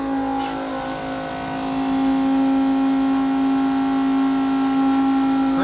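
A cordless transfer pump moving fuel in a small-engine repair shop runs with a loud, steady motor whine and a constant hum, close by and alone.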